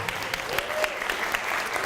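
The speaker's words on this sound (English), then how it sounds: "Let's give them a round of applause" An audience claps for PCC students at an art-as-activism event, steady dense applause from a crowd with a few sharper claps standing out, moderately near.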